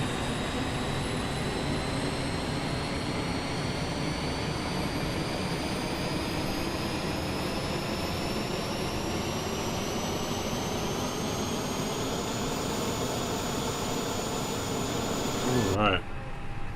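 Airbus A320 jet engine spooling up in a flight simulator, FlyByWire mod: a steady whining roar with tones gliding slowly upward, loud and continuous, with a brief click near the end.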